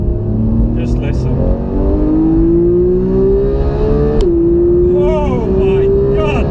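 A Porsche 911 GT3 engine revs up toward 9000 RPM, a loud rising mechanical howl that climbs steadily, dips briefly at a shift, then climbs again, heard from inside the car.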